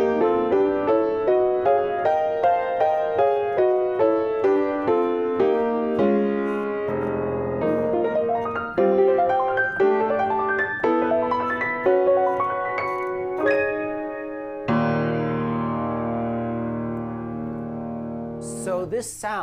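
Piano plays a run of parallel chords moving in whole tones over a steadily held low F in the bass, in a tribute to a 1960s jazz style; the rhythmic chord attacks ring out clearly and loudly, with no talking.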